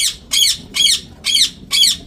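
Fighting cock birds squawking in a loud, regular series of five sharp calls evenly spaced, near and clear with no talking.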